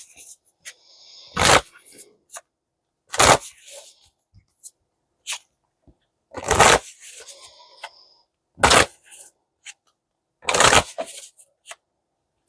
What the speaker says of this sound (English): I wasn't going to shuffle these at all, but I'm going to do it.